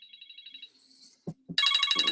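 A mobile phone ringtone chimes in a steady repeating tonal pattern, fades briefly around a couple of soft thumps, then returns as a louder, fuller ring.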